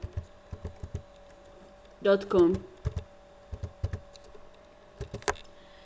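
Keys on a computer keyboard click in quick, irregular bursts, close and clear, while a voice speaks briefly partway through.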